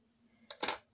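A short crunchy snip of scissors through card while making a Christmas market gift box, a single close cut lasting under half a second in an otherwise quiet room.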